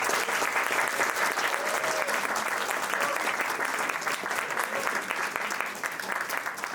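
Audience applause in a hall during a capstone project showcase, a steady dense burst of clapping lasting the whole stretch at an even level, with no voices standing out.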